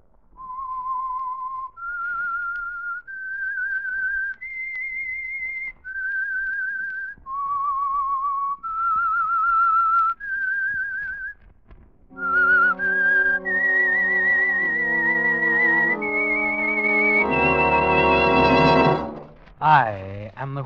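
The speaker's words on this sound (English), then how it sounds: "That whistle is your signal for the Signal Oil Program," A clear whistled melody of sustained notes, the theme of the radio mystery drama The Whistler, then joined by orchestral chords swelling to a loud finish.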